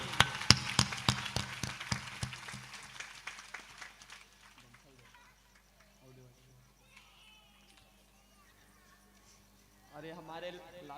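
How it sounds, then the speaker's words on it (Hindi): Audience at a Bhagwat katha breaks into loud, dense applause for honoured guests, strongest in the opening seconds and tapering off, with a voice speaking near the end. "और जोरदार तालियां बजाएंगे सम्मान के लिए।"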